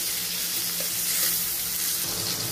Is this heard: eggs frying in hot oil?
yes